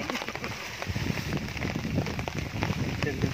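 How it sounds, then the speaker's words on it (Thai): Rain pours steadily on a surface near a shelter where someone waits out a downpour, a dense continuous patter with scattered drop hits throughout. "หลบฝนอยู่ในร่มฝนมาครับ"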